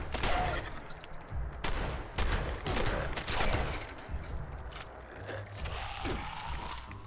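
Repeated shotgun blasts in Fallout 76 boom out as loud broadband bursts at irregular intervals, with mechanical pump and reload clicks and a busy game background between shots.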